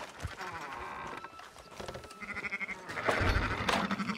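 Sheep bleating in the Red Dead Redemption 2 video game, several overlapping farm animal calls at moderate distance mixed with rustling game ambience, no speech.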